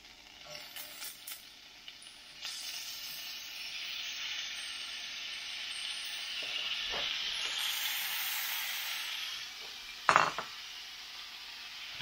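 Chanterelle mushrooms hit a hot pan and sizzle, a steady frying hiss that swells and holds, broken by a few clinks and scrapes of a utensil, one louder near the end.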